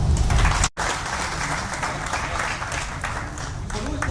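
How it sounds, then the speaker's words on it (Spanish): An audience at a talk on same-sex marriage in El Salvador gives a strong round of applause for a speaker, a dense and steady clatter of hands after a brief break in the sound. "pido un fuerte aplauso"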